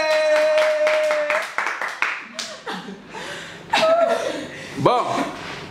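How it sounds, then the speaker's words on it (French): People clap during a dance show with a woman in charge, scattered close handclaps mixed with chatter, laughter and a tonal voice. "Applaudissez!"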